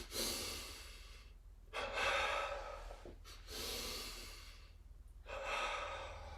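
Forceful double exhales during yoga practice, several sharp two-part breaths pushed out through the nose, close and clear, separated by quiet pauses.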